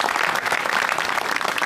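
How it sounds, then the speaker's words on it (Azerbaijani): An audience at a comedy show breaks into dense, sustained applause, many hands clapping loudly and evenly across the whole short burst. "Alqışlayaq dostlarımızı."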